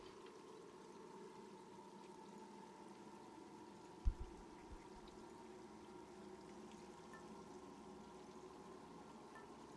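Water poured steadily for drinking, a continuous soft liquid rush heard close by with a brief small knock partway through and no talk.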